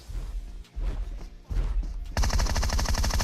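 Groza rifle fire in a PUBG-style battle royale game: loud rapid automatic bursts with heavy low thumps, building into a dense, continuous volley of shots near the end.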